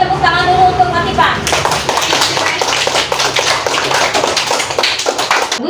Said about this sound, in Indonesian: Berikan tepuk tangan dulu untuk Latifah.